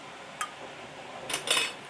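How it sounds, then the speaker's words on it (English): Metal canning lids set onto glass jars of homemade cranberry juice, giving a faint single click followed by a couple of quick light metallic taps, close and quiet. "I am just going to put the lids on these"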